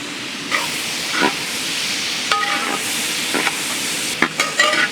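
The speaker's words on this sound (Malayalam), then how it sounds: "നമ്മുടെ സവാള നല്ലോണം ഇളക്കി വഴറ്റിയെടുക്കണം കേട്ടോ." Sliced onions with a pinch of salt sizzle steadily in a hot pan while being cooked for an oyster gravy, with repeated scraping strokes of a spoon stirring through them.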